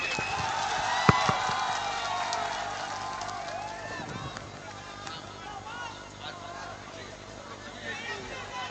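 At an election rally in Paru, Bihar, a crowd applauds and cheers to welcome a candidate, with a sharp burst near the start settling into a continuous babble of clapping, whoops and speech noise.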